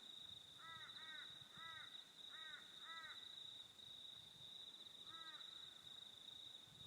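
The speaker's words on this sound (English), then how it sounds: "Good morning, crows." Crows caw in the morning: two quick bursts of harsh caws, then a pair more, and one later call, moderately distant over a constant high insect-like whine and quiet outdoor ambience.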